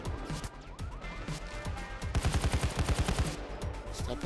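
Rapid gunfire from a Payday 2 heist rattles off in a dense run of loud, closely spaced shots, with a scattered volley early on and a steadier burst through the middle, and no voices over it.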